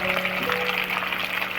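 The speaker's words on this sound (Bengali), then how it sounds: "আবার একটু নুন দিয়ে ভালো করে ভেজে নেবে লাল করে।" Soybean chunks fry in hot oil after potatoes, giving a steady close sizzle with a broad hiss, no voices, holding evenly through the short stretch.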